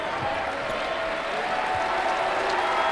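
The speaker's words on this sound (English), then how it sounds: "And the crowd appreciative as the win streak stays alive for the Wildcats." A basketball arena crowd applauds steadily after a Davidson Wildcats win over UMass, a dense, continuous wash of clapping and murmuring heard from a distance under a commentator's voice.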